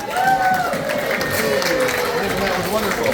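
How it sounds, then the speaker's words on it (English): A crowd at a Thanksgiving appreciation dinner applauds and cheers loudly and steadily for a welcomed guest, a dense wash of clapping with voices mixed in, filling the short stretch alone. "Let's give a big round of applause for the one, the only"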